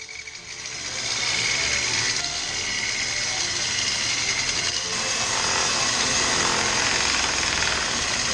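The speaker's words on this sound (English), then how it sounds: "With the saw running, I cranked up the blade until it was just visible." A running table saw cutting into wood, a loud, continuous close whine with a dense grinding roar that swells after the first second and holds steady throughout.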